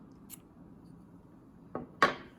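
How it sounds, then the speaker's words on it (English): Fishing line tag end being snipped after tying a snell knot on a hook: two quick, close scissor cuts near the end, a light snip followed by a sharper, louder clip, over a quiet background. "We'll snip the tag end."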